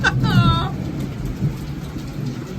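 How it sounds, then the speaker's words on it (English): A spring thunderstorm with rain in San Diego, a steady wash of rainfall with low rumbling thunder underneath, plus a brief tonal squeal near the start. "thunderstorms and rain in San Diego in spring"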